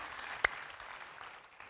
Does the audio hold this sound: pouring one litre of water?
no